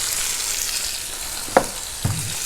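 Jellyfish stir-fried with holy basil in a pan, a steady frying sizzle with two sharp utensil scrapes or clanks against the pan near the end, no talking.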